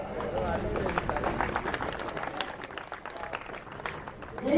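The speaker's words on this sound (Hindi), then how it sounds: "तालियां जोरदार बजाइएगा" A crowd at a Swachh Bharat Mission public event in Shahjahanpur claps steadily, a dense patter of many hands that continues throughout with a voice speaking over it.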